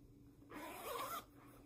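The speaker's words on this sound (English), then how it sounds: "So that's an invisible zip there." An invisible concealed zip is pulled up a sewn peony dress, giving one soft, brief zipping rasp of about half a second, quiet and close, with no talking.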